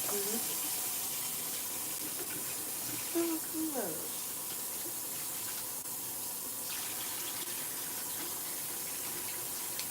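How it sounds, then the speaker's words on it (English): Cold tap water runs steadily into a sink to rinse off a facial peel. The rushing hiss is constant throughout, with a brief bit of faint talk in the middle. "in order to neutralize it, I'm going to use cold water"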